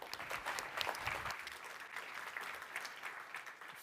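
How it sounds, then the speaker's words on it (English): At the Startup World Cup Austria event, an audience gives sustained, evenly dense applause at fairly low level, a soft continuous patter of many hands with no voices on top. "Big round of applause, please."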